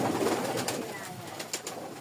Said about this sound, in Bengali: রানিং একজোড়া কবুতর।